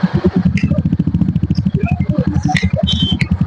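Motorcycle engine starts and runs with a rapid, loud pulsing putter close by, alongside some scattered clatter, at a crowded village fair during a Ganesh puja celebration.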